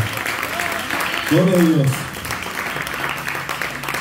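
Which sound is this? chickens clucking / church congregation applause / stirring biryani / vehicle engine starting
church congregation applause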